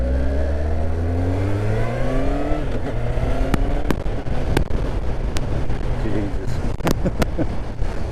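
A Honda CBF 1000 motorcycle engine is loud and close, revving up as it accelerates through the gears with a rising drone, then settles into a rough roar cut by sharp clicks and pops, with one brief spoken exclamation.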